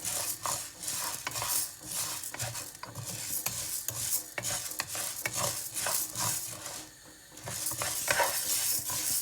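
Flour is dry-roasted in a pan and stirred continuously, producing repeated scraping and rasping strokes of a spoon against the metal in an uneven rhythm, close and alone without speech.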